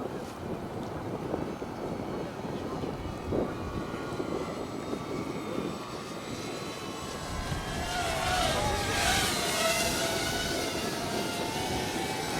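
Avios Albatross model seaplane on a test flight, its engine droning steadily amid wind noise and rising louder near the end, heard from a distance outdoors.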